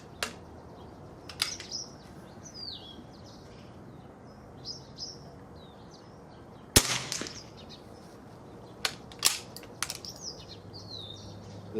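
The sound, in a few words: 22LR S&B Subsonic rifle shot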